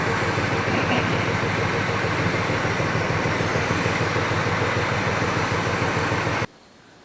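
A Mopar V8 fitted with an electronic ignition conversion idles at around 780 rpm, a steady, even, rumbling drone that holds throughout and then cuts out abruptly near the end.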